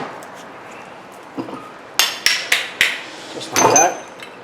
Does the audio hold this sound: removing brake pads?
yes